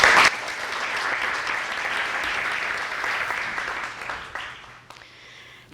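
A lecture audience applauds to welcome a speaker to a dark energy talk, with steady, sustained clapping from a crowd that fades out near the end.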